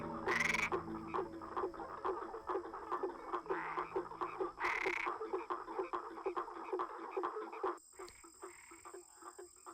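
Frogs calling in the Atlantic Forest, a dense chorus of rapid repeated clicks and croaks with a few louder nasal calls, continuing until a quieter stretch near the end.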